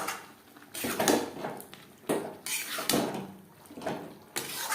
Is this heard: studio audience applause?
no